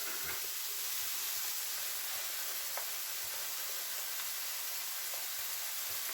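Apples fry in a pan with a steady, soft hiss and sizzle, faint and constant with occasional small pops, and no voices.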